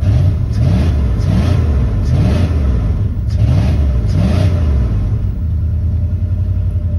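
A 1994 Dodge Ram's 5.2 V8 is blipped several times, each rev rising and falling in quick succession over a constant rumble, loud and close, before settling back to idle.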